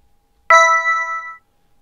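A single bright chime rings out as a coin is collected in a Buildbox platformer video game, a clean tonal ping that sustains for about a second before cutting off, heard alone against silence.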